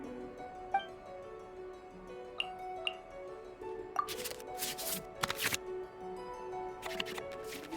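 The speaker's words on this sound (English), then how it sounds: "we can select any number of cards in our hand to shuffle back into the draw pile" Cards shuffle in the Genshin Impact card game, with soft clicks and ticks followed by several quick, crisp riffling bursts. A faint musical background plays beneath, and no one speaks.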